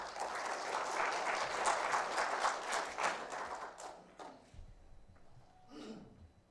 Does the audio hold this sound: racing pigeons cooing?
no